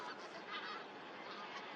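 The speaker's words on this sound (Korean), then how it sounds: "시베리아에서 번식을 하고 겨울이면 동아시아로 월동을 위해 방문하는 기러기 종류들입니다" A large flock of wild geese winters at Sihwa Lake, where migrants from Siberia, mostly bean geese, gather. Their many overlapping honks merge into a dense, continuous clamor heard from a distance.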